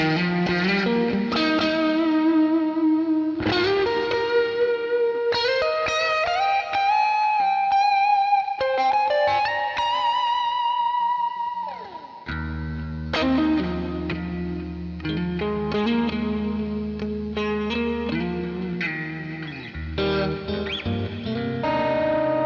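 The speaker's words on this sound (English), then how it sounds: "the neck pickup is truly the magic of this guitar" An electric guitar on its neck pickup plays warm, sustained melodic lines and chords through effects with reverb and slight distortion, steady and prominent throughout with no talking.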